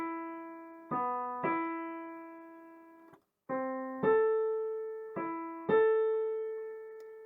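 A disjunct melody on a clean synthesized keyboard-like tone leaps between notes rather than stepping, about seven separate struck notes that each ring and decay, with one brief silent gap, played alone and clear.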